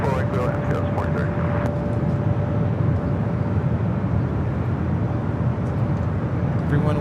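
An Airbus A321neo airliner taking off from LAX, bound for Monterrey, Mexico, giving a loud, continuous engine roar with a steady whine running through it, while voices talk faintly underneath.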